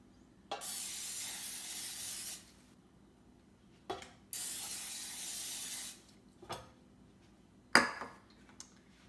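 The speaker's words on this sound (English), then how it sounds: "we're gonna spray it with olive oil spray" Bursts of olive oil cooking spray hiss close by onto a pan: two long sprays, then short quick spurts, with quiet pauses between.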